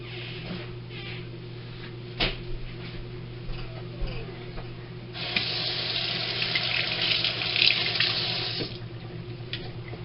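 Tap water runs into a kitchen sink while a cutting board is rinsed, a steady hiss swelling louder midway for a few seconds before easing back, with clinks and knocks around it and no talk.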